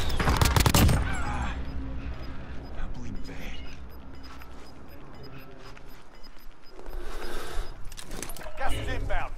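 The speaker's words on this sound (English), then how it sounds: "Watch out with the airstrike!" An airstrike in Call of Duty: Warzone, with a loud explosive burst at the start and rumbling impacts that carry on under excited voices of players talking.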